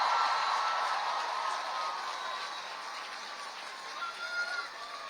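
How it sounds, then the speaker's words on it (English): Applause from a climate strike crowd in New York City, a dense steady wash of clapping that fades slightly over several seconds, with faint voices mixed in. "We'll give them an applause."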